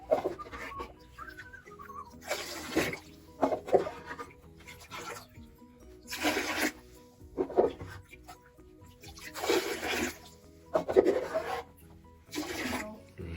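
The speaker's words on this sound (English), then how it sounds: "now you can start using the jug to get the water out and just tip it straight down into the toilet" Water tipped from a jug straight down into a toilet, heard as a series of splashing pours arriving every second or two with quieter scraping and handling noises between them, close by and without speech.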